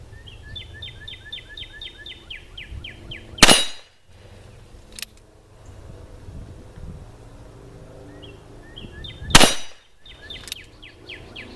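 Two sharp, loud impacts of bullets striking a steel gong target outdoors, several seconds apart, each a bright crack with a short metallic ring, while birds chirp steadily in the background.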